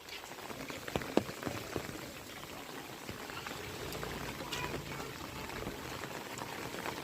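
Rain falls on village streets while water runs through the lanes and market, a steady soft patter and wash of water with a few sharper drops near the start.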